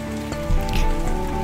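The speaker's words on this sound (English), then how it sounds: "The rain sounded so beautiful, and so I thought I would sit outside and record a message" Rain falling outdoors, a steady hiss of drops on surfaces with a low rumbling undertone, close and continuous, with no talk.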